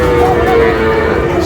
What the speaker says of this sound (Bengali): সাইওয়াল ষাড়